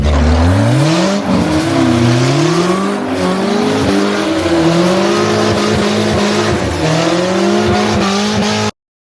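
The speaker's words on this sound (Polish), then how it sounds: "Dokładnie tak wygląda drift." Citroen car drifting, with loud sustained tire squeal wavering over a revving engine that rises and falls, close and continuous until it cuts off abruptly.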